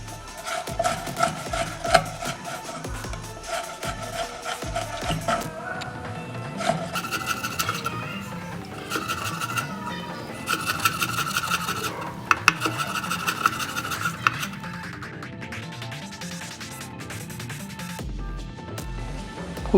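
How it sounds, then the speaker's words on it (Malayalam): A knife cuts chicken into small pieces for shawarma on a board, making repeated rubbing, rasping strokes and scattered knocks at close range, steady throughout with no talk. "നമുക്കിനി ഈ ചിക്കൻ ചെറിയ ചെറിയ പീസുകളായി അരിഞ്ഞു കൊടുക്കാം."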